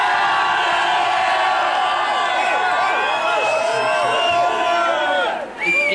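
A studio audience on a Dutch Big Brother 2000 television show cheers and whoops for Robin, a loud, dense crowd roar that holds steady and then drops off near the end.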